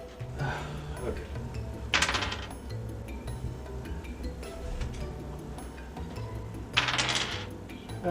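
Dice clatter and roll across a table during a board game, two short bright bursts several seconds apart against quiet background noise.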